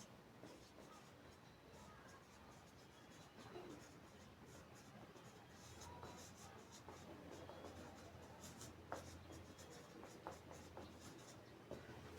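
Pen scratching on paper during a Class 8 math lesson on terminating and non-terminating decimals, faint continuous strokes and scrapes close to the microphone, with a quiet background hiss.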